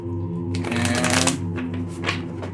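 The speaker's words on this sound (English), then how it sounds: "I'm gonna do one more shuffle" Tarot cards shuffled by hand, a close, crisp riffling flutter that swells in the middle and trails off, over a steady low hum in the background.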